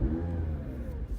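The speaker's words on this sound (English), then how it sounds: "And then when we turn the car on," A McLaren 720S engine burbles at a deep, rumbling idle after starting, with a rich low growl and slight rise and fall in pitch, close and steady with no talking.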